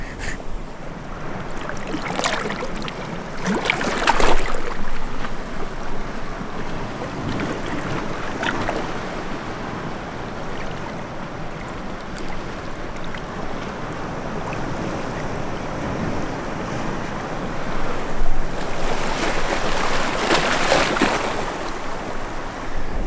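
Ocean waves wash and splash continuously with wind in the background, with a few louder surges breaking through the steady roar.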